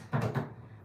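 The small plastic filter door of a front-loading washing machine is shut with a short close-up double knock, a quick pair of soft thuds followed by silence.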